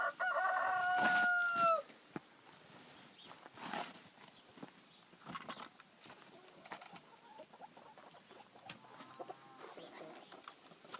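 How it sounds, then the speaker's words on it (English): A rooster crows close by at the start as about a dozen hens and a rooster or two are let out in the morning; hens cluck and scratch softly amid quiet outdoor ambience. "here come a dozen or so hens and a rooster or two"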